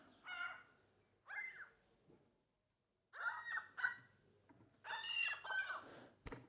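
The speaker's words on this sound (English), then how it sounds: "angry seagull" Several harsh, squawking seagull calls in separate bursts with short pauses between, loud and close, sounding agitated.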